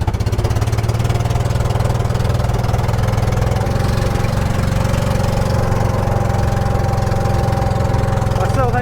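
A vintage 1980s UTV engine runs steadily nearby with a loud, rapid, chugging rhythm, its tone lifting slightly toward the end.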